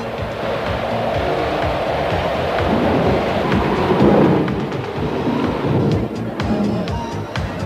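A video-game thunderstorm at sea, with a steady roar of heavy rain and low rumbling, followed by sharp crackling clicks, loud and continuous with no voices.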